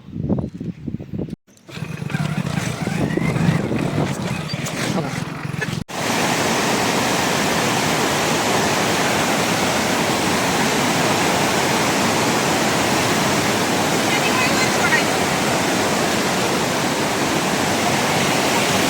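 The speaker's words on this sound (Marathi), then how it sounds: "वन साइड धबधबा चालू आहे." A waterfall at Mahabaleshwar roars in a dense, steady rush of white noise, loud and unbroken after a few seconds of quieter, choppier sound at the start.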